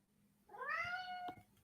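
A cat gives a single drawn-out meow, clear and fairly close, rising and then holding steady for about a second in an otherwise quiet room.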